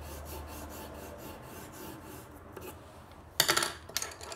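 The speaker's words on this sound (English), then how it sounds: "I'm going to take my reddish brown and add in some more lines on both sides." A reddish-brown colored pencil draws lines on paper for rusted barn siding, making soft, repeated scratchy strokes, faint and close, with a sharper burst of scraping near the end.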